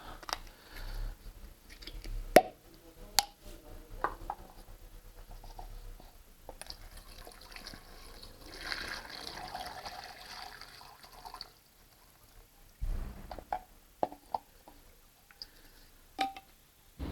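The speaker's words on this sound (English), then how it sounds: "First, whole bottle of additive." Engine oil additive glugs and trickles steadily into an engine for several seconds, with scattered clicks and taps of handling nearby, then a few sharper knocks at the end.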